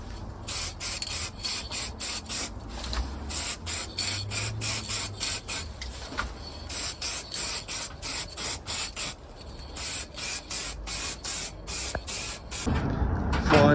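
Spray paint goes onto a camping bike trailer in short, repeated hissing bursts of about half a second, fairly loud and close. The hiss is separated by brief pauses, and a longer rushing blast comes at the end.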